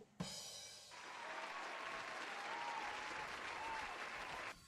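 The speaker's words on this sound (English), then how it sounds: "Stop clapping." A live crowd breaks into loud, sustained applause and cheering after a comedy joke about measles in rural Alberta, rising sharply and holding steady for several seconds before cutting off.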